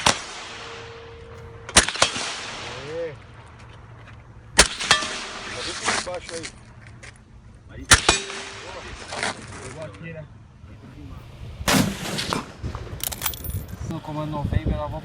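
Sniper rifle gunshots: several sharp, loud cracks spaced a few seconds apart, each with a short decaying tail, with quieter voices and movement between the shots.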